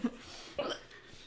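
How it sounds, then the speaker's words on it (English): A person hiccups sharply, close by, then makes a softer second catch in the breath within about a second. "That hiccup almost knocked me over."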